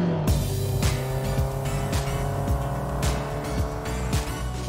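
A classic Ferrari driven in the desert, its engine droning loudly and steadily nearby with repeated rhythmic bursts and shifts in pitch as it runs along, no talking over it.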